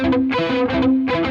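Distorted electric guitar picks short, choppy muted notes in an uneven, lurching rhythm, played alone and fairly loud.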